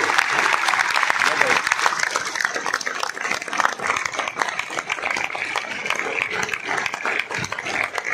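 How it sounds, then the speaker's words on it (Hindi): A standing audience in a stadium claps loudly and continuously, a dense, sustained wall of applause with a few voices mixed in throughout. "खड़े होकर के एक दूसरे के लिए।"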